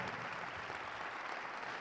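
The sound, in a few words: applause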